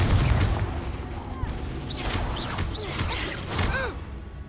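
Explosive spell blasts from Confringo and Bombarda in the Hogwarts Legacy video game: repeated booming bursts and swooshes in a steady run of combat noise, with a voice casting spells.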